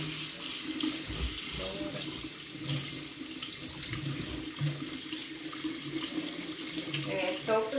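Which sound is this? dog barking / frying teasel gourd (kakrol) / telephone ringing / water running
water running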